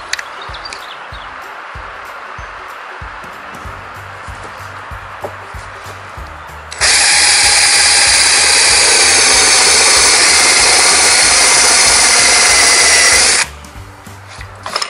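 A power tool bites lightly into a metal shutter espagnolette rod to start a first shallow notch, a loud sustained whine and grind that runs about seven seconds close up, with quieter workshop noise before and after.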